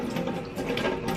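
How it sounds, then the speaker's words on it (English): Tap water running steadily while makeup brushes are rinsed under it, a close, continuous splashing hiss with faint rhythmic ticking and no talking. "You just open the water again and you rinse them under the water"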